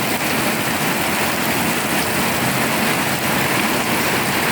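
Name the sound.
heavy rain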